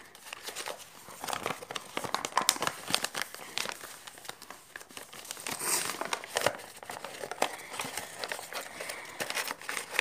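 Paper folded into an origami Recusant-class star dreadnought crinkles and crunches in bursts of close, dry crackles and rustles, with no voices.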